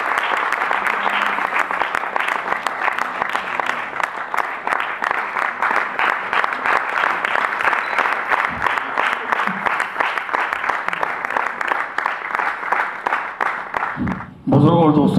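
Sustained, dense audience applause at an Eid gathering in New Delhi greets a qawwali ustad and his party, loud and continuous for the whole stretch before it cuts off abruptly near the end.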